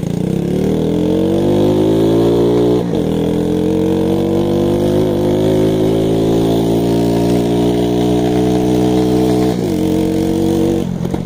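A Shineray motorcycle engine pulls away without the clutch, running loud and close with a steady rising drone that climbs in pitch, broken by two brief dips like gear or throttle changes.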